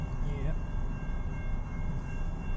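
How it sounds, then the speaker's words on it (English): A CN M383 southbound freight train passes in Richmond, Michigan, a low steady rumble of rolling cars with a faint tonal whine, voices talking nearby over it. "Train, second one."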